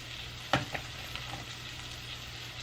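Crab cake patty frying in a hot skillet, a steady low sizzle throughout with a few sharp crackles and pops near the start, close and moderately quiet, with no voices.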